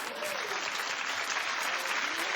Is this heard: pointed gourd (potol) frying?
no